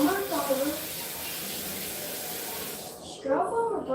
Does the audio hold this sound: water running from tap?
yes